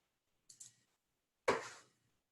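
Two light, quick clicks from a computer mouse, then a sharper, louder click that trails off briefly, all close up in a quiet room with no talking.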